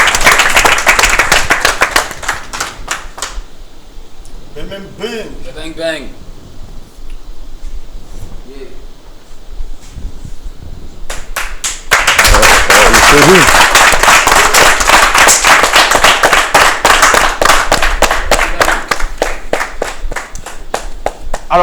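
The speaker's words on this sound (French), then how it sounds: "On applaudit pour accueillir Mr." Audience applause greets a performer on a live Saturday variety show. Loud clapping opens, thins while a voice speaks over a quieter stretch, then returns as a strong, sustained round of applause through the second half.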